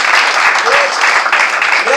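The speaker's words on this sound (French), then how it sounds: "On applaudit le Seigneur." A church congregation claps during a French-language service, a dense, loud burst of applause with a voice briefly audible over it.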